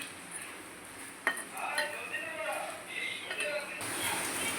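Thick batter of flour and water stirred in a bowl for chalkumra leaf pakoras, a utensil clinking and scraping against the sides in uneven strokes at close range, with one sharp knock early on.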